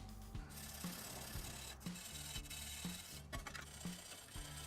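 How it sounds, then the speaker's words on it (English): Quiet rhythmic scrubbing on a rusty Vulcan 750 motorcycle part, a brush or pad rasping back and forth in regular strokes about once a second, close but soft. "I'll give it a little scrub, get off some of this rust"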